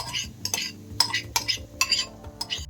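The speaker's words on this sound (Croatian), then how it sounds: "Dodajemo pirinač koji smo prethodno oprali i pržimo još 2-3 minuta." Rice and carrots frying and being stirred in a pot, with a steady low sizzle under repeated metallic scrapes and clinks of a utensil against the pot.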